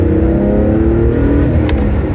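A Noble M12 GTO 3R sports car engine revs loud and close, a rich throaty drone that swells and holds for about two seconds with no talking.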